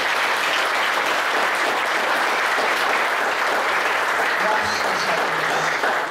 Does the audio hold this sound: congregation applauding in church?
yes